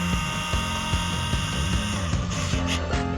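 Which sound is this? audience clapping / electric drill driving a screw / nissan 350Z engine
electric drill driving a screw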